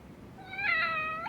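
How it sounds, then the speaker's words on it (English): A cat in the video game Lost Judgment gives a single clear, drawn-out meow that rises and then fades, close and alone with no talking. "There's a cat."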